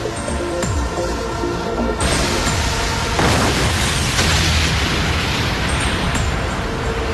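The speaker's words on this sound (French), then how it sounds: "Ces explosions voudraient-elles dire que les autres ont réussi?" Cartoon spaceship explosions from the Bakugan series, a continuous roaring blast with a sharp burst near the start and renewed booming bursts partway through, loud and sustained with no voices over it.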